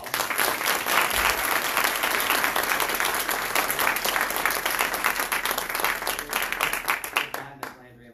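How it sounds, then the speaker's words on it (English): An audience at a state district candidates' forum claps and applauds continuously and loudly for about seven seconds before the clapping fades out. "Can we please give them a round of applause?"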